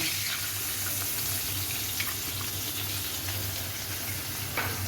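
A watery paste of turmeric and cumin powder hitting hot oil for a Bengali rohu fish curry with brinjal, producing a continuous hissing sizzle with a low steady hum underneath and a couple of faint clinks.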